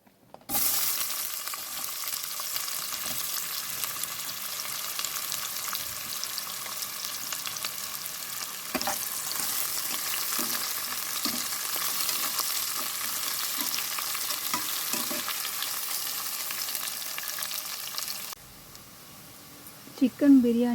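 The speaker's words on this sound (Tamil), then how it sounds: "இப்போ நம்ம வெங்காயத்தை ஆட் பண்ணிக்கலாம்." Onions fry in a little oil with bay leaf, cloves, cardamom and cinnamon for a pressure-cooker chicken biryani, a steady close hiss and crackle with occasional stirring scrapes, and it cuts to quieter sound near the end.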